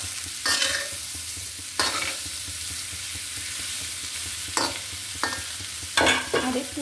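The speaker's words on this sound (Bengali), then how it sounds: "করলা ভাজি আমাকে লম্বা করে ভেজে দাও" Bitter gourd (karela) strips fry in oil in a pan with a steady close sizzle, broken by several bursts of stirring and scraping from a spatula against the pan, and no voices.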